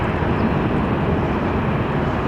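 Jet airliners taking off from the north runway at Los Angeles International Airport (LAX), a loud, steady broadband engine roar sustained throughout with no voices.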